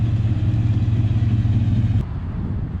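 A car without proper exhaust idles close by with a loud, steady, throaty rumble, then the engine note drops noticeably softer near the end.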